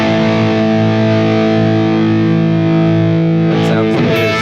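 PRS McCarty 594 electric guitar played through heavy distortion, a loud sustained chord ringing thickly, then a few sharp pick scrapes and short rhythmic hits near the end.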